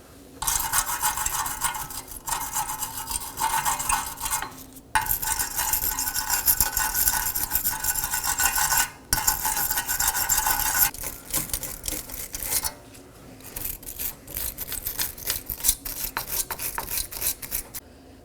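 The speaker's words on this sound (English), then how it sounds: "Now I'm going to take a wire brush and clean our mating surfaces." A wire brush scrubs the parking brake mating surfaces on a 2015-2023 Nissan Maxima in close, rapid rasping strokes, broken by short pauses, with no talk.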